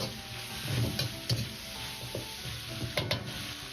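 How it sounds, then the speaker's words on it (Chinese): Green beans stir-fried in a wok with soy sauce give a constant sizzle, overlaid by repeated scraping and tossing knocks from a spatula at an uneven rhythm. "大概翻炒1分半钟左右，至豆角表面稍微发软"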